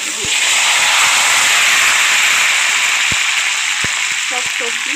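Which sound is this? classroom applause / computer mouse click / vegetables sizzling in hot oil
vegetables sizzling in hot oil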